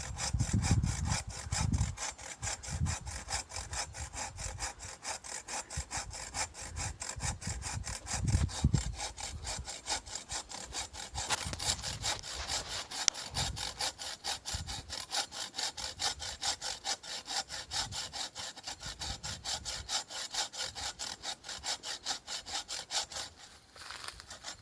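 A chainsaw trims a tree, cutting steadily through wood in a continuous rasping drone with rhythmic strokes for about 25 seconds, close and fairly loud, with no talk.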